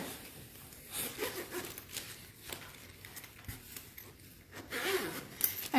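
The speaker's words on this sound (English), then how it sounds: "zip it up" A zipper is pulled closed on a craft supply storage carrying bag, a soft rasping run with a few short zips and rustles, fairly quiet and close.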